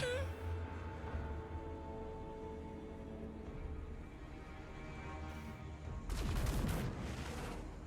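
Crane gunners firing in the strategy game Total War Warhammer 3: a steady low battle din of scattered shots under a humming score, swelling into a louder crackling burst of gunfire near the end.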